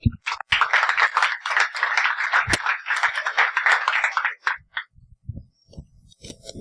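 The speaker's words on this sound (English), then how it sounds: "let's have another round of applause" Audience at the BSides San Francisco 2016 security conference gives a round of applause, a dense burst of clapping for about four seconds that then stops, followed by a few scattered sounds and faint murmuring.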